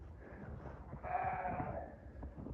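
A single sheep bleats faintly at a distance, a wavering cry rising over a low background rumble, with no talking.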